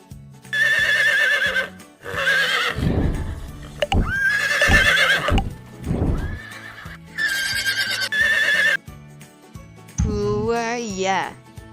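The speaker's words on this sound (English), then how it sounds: "Horse." Horse neighing in repeated loud whinnies set between spoken animal names in a children's animal-sounds lesson, with soft music underneath and a final rising, wavering neigh near the end.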